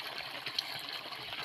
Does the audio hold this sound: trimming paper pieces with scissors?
no